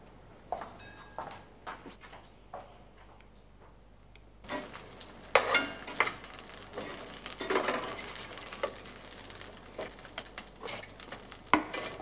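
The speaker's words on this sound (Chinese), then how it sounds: "媽咪入廚房煎多兩隻荷包蛋俾你" Two eggs frying in a kitchen pan, with a faint sizzle under irregular clinks and scrapes of a utensil against the pan. The scraping bursts recur unevenly and grow busier partway through.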